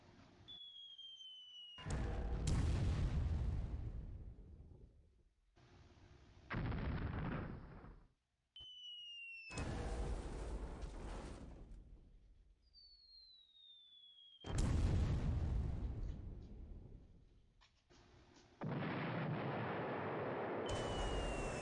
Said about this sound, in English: Oh, another 500-pound bomb. That should sink it, right?